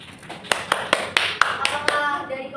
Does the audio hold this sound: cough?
no